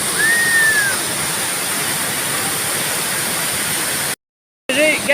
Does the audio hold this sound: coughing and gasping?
no